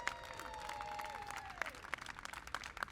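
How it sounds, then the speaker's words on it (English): A crowd applauds county workers at a Pride event at the County Administration Center, with dense steady clapping and a few sharp nearby claps. "give a big round of applause for our county workers"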